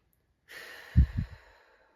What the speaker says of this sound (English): Take a deep breath in and exhale and allow the natural air sound to come through.